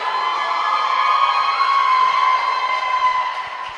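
A crowd at a roller derby bout cheers and shouts continuously, a dense wash of voices with whoops rising over it, fairly loud and steady throughout.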